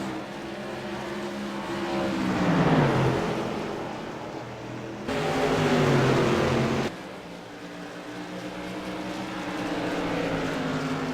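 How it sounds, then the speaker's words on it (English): CAN-AM Tour Modified Series race cars at Richmond International Raceway roar past, engine pitch rising and falling as they pass, loud and close, with a sudden cut in sound partway through. "And Greg Richardson looking a little bit slow, the 83 car."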